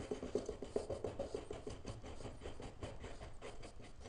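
A screw turns into a claw nut inside a homemade router lift to lower the router, giving a faint rasping, scraping rub in uneven strokes, close by and quiet, with no one talking.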